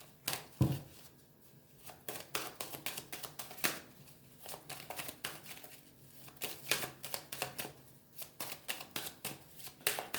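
A tarot deck is cut and shuffled by hand in close, crisp bursts of riffling card flicks and light taps, repeating in irregular clusters with short pauses between, alone with no talk.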